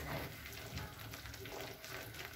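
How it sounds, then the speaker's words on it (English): Fish simmering in a pot of boiling soup, giving a steady, soft bubbling and faint sizzle throughout at low level, with no voices. "So we'll let it boil"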